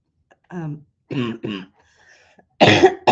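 A person coughs and clears their throat in several separate bursts, close and fairly loud, with pauses of silence between.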